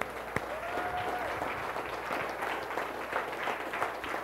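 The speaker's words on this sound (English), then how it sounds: "Y'all give God a hand clap." A church congregation clapping together during a worship service, a steady, fairly full round of applause sustained for several seconds, with a few voices faintly mixed in.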